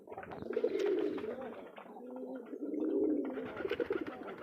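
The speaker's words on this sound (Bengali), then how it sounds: "এখানে দেখেন সাধারণত ডিম নিয়ে বসে আছে কবুতর" Pigeons coo at a pigeon farm where birds sit on eggs beside their chicks, with several soft, throaty rolling coos overlapping close by and a few faint chirps.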